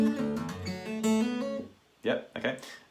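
A short acoustic guitar phrase is picked with hammer-ons and pull-offs in quick, clear notes, followed by a brief pause and a few muted strums.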